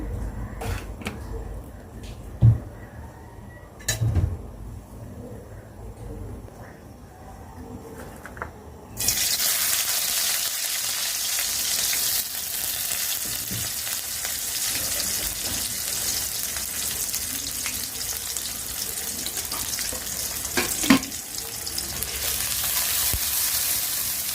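Onion and garlic hit hot oil on a stove and break into a loud, continuous sizzle that persists to the end, after a quieter stretch with a few knocks and clatters.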